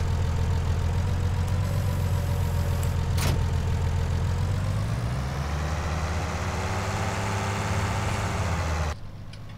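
A farm tractor in Farming Simulator 19 idles steadily with a low, throbbing engine drone that shifts pitch slightly midway, then the sound cuts off abruptly near the end.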